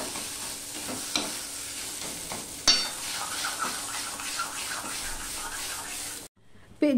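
Flat beans with onion and garlic being stirred in a pan with a ladle, a steady soft sizzle under repeated scraping strokes and one sharper clack, close by, before cutting out near the end.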